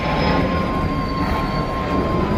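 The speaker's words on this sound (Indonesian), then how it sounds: "Maaf ada pesawat lewat, agak bising sedikit ya teman-teman" Aircraft noise from a plane passing over at night, a steady loud broadband roar with a faint high whine, continuous throughout without talk.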